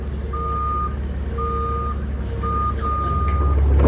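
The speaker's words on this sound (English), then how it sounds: "Skid steers, man, gotta love them." A skid steer works nearby with its reversing alarm sounding a series of clear, evenly spaced beeps over a continuous low engine rumble.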